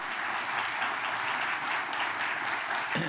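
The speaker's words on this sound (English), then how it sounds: "So let's give both of them a round of applause." A crowd at a civic appreciation event at Austin City Hall breaks into steady, dense applause that fills the whole moment, with no voices over it.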